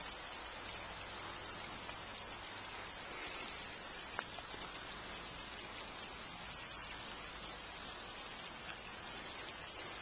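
Rain falls steadily during a fishing outing, a quiet, even hiss of drops spread wide over ten seconds with one faint tap partway through and no talk.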